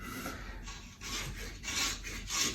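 A knife peeling bark off a wooden stick, giving several long rasping scrapes in a steady back-and-forth rhythm, close and distinct with no speech.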